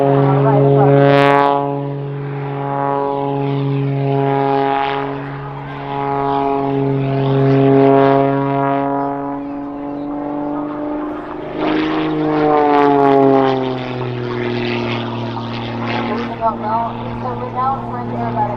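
MXS aerobatic propeller plane passing overhead at the Sanicole airshow, a loud steady engine drone with shifting pitch throughout, under a continuous narrator voice.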